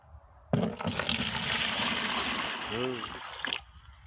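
Water holding a freshly caught snakehead fish pours into a container outdoors, a steady close splashing rush lasting about three seconds before stopping abruptly, with a brief voice during the pour.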